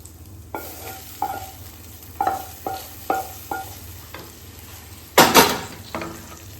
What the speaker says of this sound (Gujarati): એ બધું આપણે હલવા જોડે મિક્સ કરી લઈશું આપણા ડ્રાયફ્રૂટને